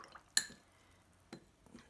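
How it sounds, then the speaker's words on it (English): Paintbrush rinsing in a water cup for watercolor painting: a sharp clink of the brush against glass, then soft faint splashes and swishes of water, quiet and close. "I'm going to rinse my brush"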